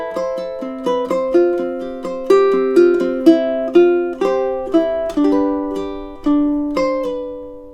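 Measures 3 and 4 of a piece played on ukulele as a steady run of plucked notes and chords, each ringing and fading, close up and alone without speech.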